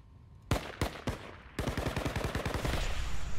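Gunfire in the battle royale game Fractured Lands: a few spaced single shots give way to a rapid, loud, even burst of automatic fire that runs to the end.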